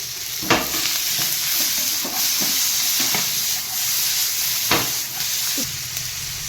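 Tomato stirred into a frying pan of spiced fish curry base with salt and turmeric: a continuous sizzle broken by spoon scrapes and knocks against the pan, close and fairly loud, with no talk.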